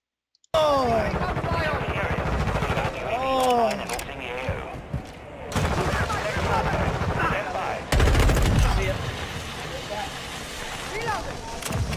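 Rapid gunfire from a first-person shooter, Call of Duty, rattles in bursts throughout, with a voice speaking over the shots and a heavier burst near the end.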